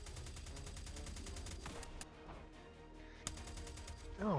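Suppressive gunfire crackles through a firefight as rapid repeated shots in a fast rhythm, then sparser cracks with a sharp report near the end, all faint and distant.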